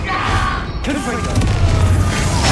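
A Confringo blasting spell goes off in the Hogwarts Legacy video game, a loud booming explosion with a rumbling low tail that carries through the whole stretch, overlaid by game music and effects.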